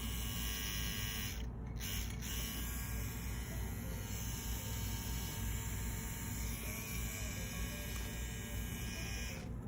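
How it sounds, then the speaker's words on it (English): A very small tattoo machine, the CNC M-Q3 with a smooth motor and its cable attached, runs steadily in a continuous close, even buzzing hum with no talking. "So you guys can see that it's a very small tattoo machine."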